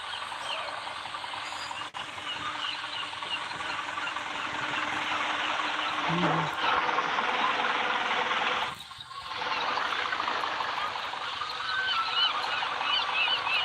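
Birds call along a mountain route in a truck simulator game, a dense, continuous chorus of chirps and honk-like cries running steadily throughout, with one brief dip near the middle.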